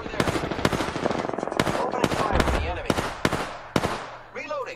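Rapid gunfire in the video game Resident Evil 2: dense bursts of sharp, loud shots in quick succession, with brief voices mixed in near the end.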